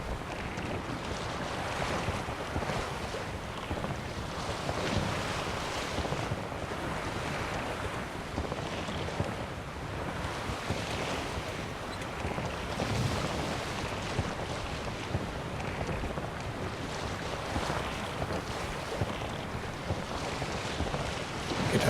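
Steady rushing water and wind surround a boat moving over the sea in The Witcher 3: Wild Hunt, a constant washing roar with no voices.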